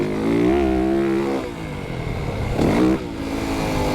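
A 2025 Yamaha YZ450FX dirt bike revs and pulls through the throttle close by, its engine note rising and falling in a rough, buzzing drone with a brief burst of mechanical clatter.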